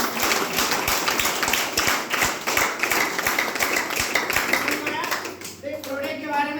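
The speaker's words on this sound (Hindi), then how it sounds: "अपने लिए पहले जेंट्स लोग ताली लगाएंगे थोड़ा सा" Men in a seated audience at a Hindi-language DXN product talk clap in a steady, fairly quick rhythm of sharp hand claps, with talking over them, before a voice continues as the clapping fades.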